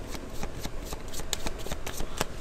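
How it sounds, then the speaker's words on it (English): A deck of reading cards being shuffled by hand, close and crisp, with a quick run of riffling bursts and light slaps in an otherwise quiet room. "One more shuffle."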